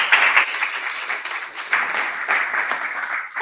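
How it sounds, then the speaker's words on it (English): Warm audience applause after a talk at a digital transformation event, dense and fairly close clapping with slight swells, sustained throughout the few seconds without a clear voice over it. "I just want to give one last very big round of applause to Roman for his amazing"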